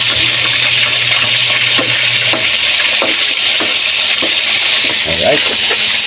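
Tilapia frying in hot oil in a pan, a steady loud sizzle with scattered sharp pops and splatters throughout, briefly joined by a low hum early on.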